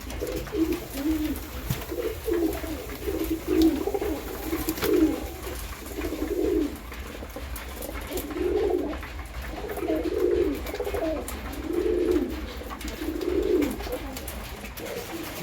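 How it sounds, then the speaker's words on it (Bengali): Female pigeons feeding while cooing, a soft rhythmic series of low coos repeating every second or so, close by with light background noise and no talk. "মাদি পায়রাগুলো সব খাওয়া দাওয়া করছে।"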